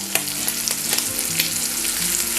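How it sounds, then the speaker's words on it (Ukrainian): Brisket fries in a pan with a continuous close sizzle, dotted with small pops and crackles, and no talking. "Грудинка вже у мене активно смажиться, тож можна додавати сюди цибульку."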